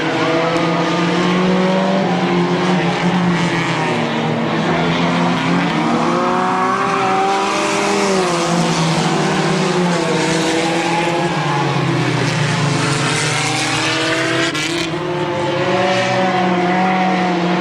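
Race cars lapping the oval at Midvale Speedway, a loud continuous roar of several engines with rising and falling pitch as they pass, steady and close throughout.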